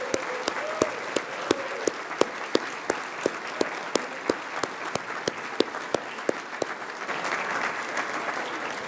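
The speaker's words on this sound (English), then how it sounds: "please join me in a round of applause to appreciate and congratulate him on his accomplishment" Audience at an annual meeting applauding in a sustained, even wash of clapping, with a few sharper individual claps standing out at a regular beat throughout.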